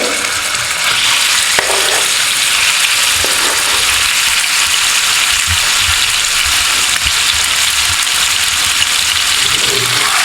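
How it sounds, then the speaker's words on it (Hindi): Chicken tikka pieces fry in about three tablespoons of oil in a pan on a stove, giving a loud, steady, close sizzle that runs unbroken throughout. "इसको अच्छी तरह फ्राई करेंगे वाइट होने तक।"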